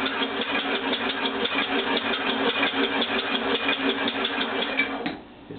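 A six-cylinder oval compressed-air engine prototype runs at about 110 psi, giving a loud, close, steady rapid chugging with airy hiss throughout, then cutting off abruptly just before the end; no talking.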